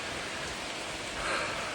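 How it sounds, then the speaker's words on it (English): Heavy rain pours down steadily outside a small cave on a hiking trail, a dense hiss of falling water with no voices. "Started to rain pretty hard there for a second"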